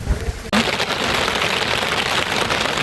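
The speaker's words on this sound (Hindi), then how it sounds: "तूफ़ानी बारिश भी हो रही है और ठंडी भी ऐसी लग रही" Heavy stormy rain on a cold mountain trek to Madhyamaheshwar, a dense roaring downpour that bursts in sharply after a brief muffled start and stays loud and unbroken to the end, with no talking.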